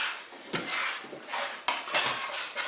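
Bread dough being scraped out of a bowl with a small plastic scraper, producing several close scraping and knocking strokes against the bowl in quick, uneven bursts.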